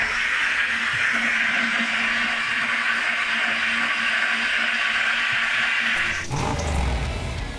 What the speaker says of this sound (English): That's George in the glass bead, cleaning up valve cover.